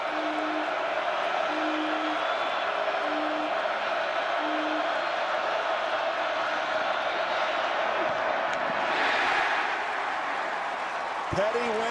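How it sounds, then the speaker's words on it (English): A loud crowd roars at a 2014 WVU vs Baylor college football game, a steady, dense stadium din that fills the whole stretch, with faint tonal notes early on and a brief swell near the end. "This crowd is loud."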